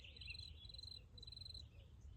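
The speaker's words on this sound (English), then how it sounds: "Yes, cricket." A cricket chirps in rapid trilling bursts, three pulsed runs in quick succession, faint and high over a low background hum.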